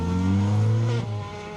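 A Mark II rally car in Shell Oils livery on a wet asphalt rally stage, its engine roaring loudly nearby in a short burst, pitch shifting as it drives past.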